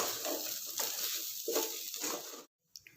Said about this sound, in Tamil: இப்போ நல்லா இதை கலந்து விட்டுருங்க.